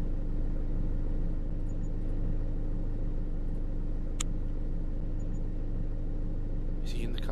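A steady low engine rumble from a car in a horror-comedy simulator game, droning evenly throughout with a couple of brief higher clicks and a short sweeping tone near the end.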